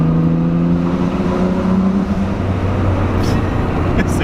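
A loud Nissan Skyline R33 GT-R V-Spec engine rumbles close by, its pitch dropping as it settles, with a deep throaty drone continuing to the end.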